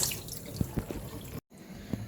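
Pork feet being rinsed under a running tap in a kitchen sink, with scattered close drips and light splashes and a brief cut to silence partway through.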